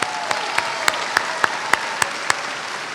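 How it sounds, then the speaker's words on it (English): Steady applause from a crowd at a 2017 high school graduation ceremony, with a few sharper claps or thumps standing out at regular intervals over the continuous wash of clapping. "I'd like to give our school a round of applause for that accomplishment"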